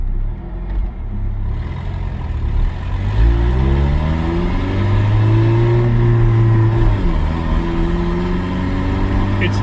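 A car engine revs and accelerates on a road test after repair work for a power loss and suspected plugged intake manifold, with a steady low drone rising in pitch through the middle and holding loud and close throughout.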